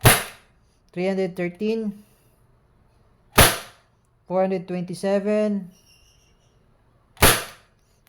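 Three sharp, loud cracks ring out a few seconds apart as a Crosman Phantom P10 air pistol is fired, each shot followed by a short spoken readout.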